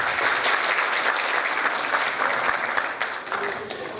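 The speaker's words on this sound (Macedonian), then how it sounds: "Аплауз за организаторот." Audience at a New Year folk concert in Probishtip applauds the organizer, a steady, dense burst of clapping from a full hall that holds evenly for the whole stretch, with a slight thinning near the end.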